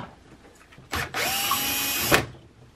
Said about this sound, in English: Once you've got the holes drilled out